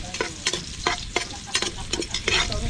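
Food sizzles in hot oil in a pan, with rhythmic scraping strokes of a utensil stirring every half second or so, close and fairly loud.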